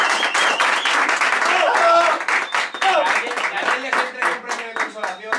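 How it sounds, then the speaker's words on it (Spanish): A group claps and applauds loudly at a meeting, dense continuous clapping with some voices and cheers mixed in, then thinning into scattered claps toward the end. "A ver si aplaudimos ya, que nos quería ganar."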